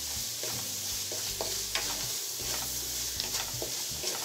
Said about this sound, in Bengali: এখন এই সব কিছুর সাথে চিংড়ি মাছটাকে আবারও আমি ভুনা করে নেব